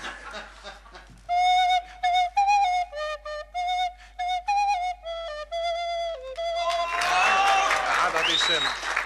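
A flute plays a quick run of short, bright notes, then gives way to a burst of clapping and crowd noise.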